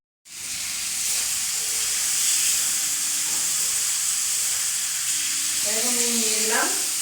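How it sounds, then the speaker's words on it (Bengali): Fried potatoes with salt sizzle loudly while being stirred and pressed in a pan, a steady hiss running throughout with scraping stir sounds near the end. "এবারে নুন দেবো, দিয়ে এখন চাপা দিয়ে দিয়ে কষবো অনেকক্ষণ।"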